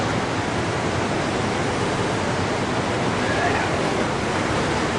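Ocean surf along the rocky Bondi to Tamarama coastal stretch in Sydney, a loud, steady wash of breaking waves that roars continuously throughout with no clear gaps.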